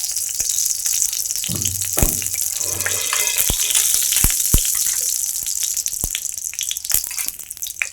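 Cumin seeds fry in hot oil in a rustic Bengali home kitchen, giving a steady, close, bright sizzle with a few sharp pops and clatters and no talking.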